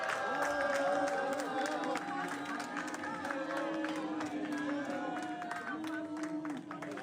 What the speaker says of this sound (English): And you listen, there's cheers and boos.